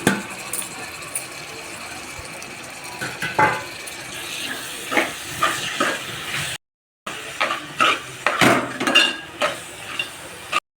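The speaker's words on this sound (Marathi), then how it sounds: "मस्त खिमा सगळा मिक्स केला आता आपण मसाल्यांमध्ये." Squid mince stirred into fried masala in a pan, with a continuous frying sizzle broken by repeated scraping strokes of a spoon, growing busier toward the end and stopping briefly once.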